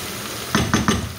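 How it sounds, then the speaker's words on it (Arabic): Fat and chopped vegetables fry in a pan for a moist msemen filling, a low steady sizzle underneath three quick stirring scrapes that come in an even rhythm, close and moderately loud, with no voices. "كنبقى نقلي ونشحر مزيان هذا الشيء"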